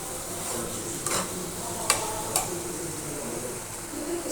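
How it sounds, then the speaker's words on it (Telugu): Telugu-style mushroom fry scraped and spooned from a pan into a serving bowl, with a steady sizzling hiss and a few sharp utensil clinks against metal. "ఇప్పుడు సర్వింగ్ బౌల్లోకి షిఫ్ట్ చేసేసుకుందాం"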